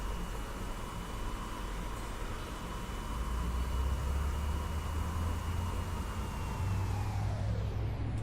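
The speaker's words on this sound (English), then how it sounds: "Somebody's engine's sounding louder." A general-aviation aircraft engine in Microsoft Flight Simulator drones steadily at a constant pitch, with a deeper rumble building partway through as the engine grows louder, with no talking.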